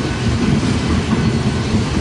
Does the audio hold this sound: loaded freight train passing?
yes